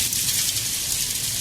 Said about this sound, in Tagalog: Ay, umulan.